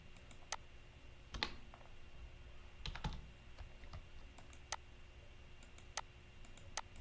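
Commands are typed into AutoCAD on a computer keyboard: sparse, irregular keystroke clicks, some single and some in quick pairs, over a quiet room hum.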